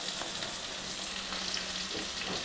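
Potatoes fry in a pan with a faint, steady hiss and soft crackle, low and continuous with no voices.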